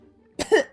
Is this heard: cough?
yes